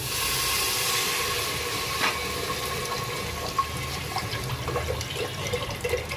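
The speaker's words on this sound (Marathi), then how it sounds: "तर आपण त्यात पाणी टाकते" Water is poured into cooking dal khichdi in a pan, a steady rushing pour with faint bubbling, close and continuous for several seconds with no talk.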